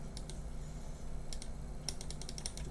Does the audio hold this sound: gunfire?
no